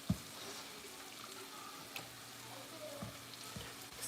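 Halved bacon strips sear in a pan with a steady low sizzle, close by, marked by a few sharp clanks and scrapes of handling, with no talk.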